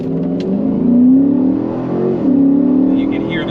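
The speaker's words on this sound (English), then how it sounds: "You can hear this thing just fire and shifts off." A V8 all-wheel-drive truck in sport mode launches from a stop sign, its engine revving up loudly and dropping as the transmission fires off two quick upshifts, heard close from inside the cab.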